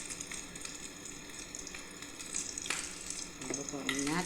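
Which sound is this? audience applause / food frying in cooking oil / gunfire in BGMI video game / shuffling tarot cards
food frying in cooking oil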